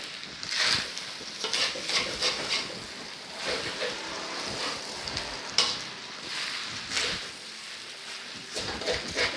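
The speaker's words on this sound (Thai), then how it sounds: "หอมหัวใหญ่ ผัดคลุกเคล้าให้เข้ากันดีเลยค่ะ" Pork fried rice with onion, tomato and soy sauce stir-fried in a pan, a constant close sizzle broken by repeated scraping and tossing strokes, with no talk.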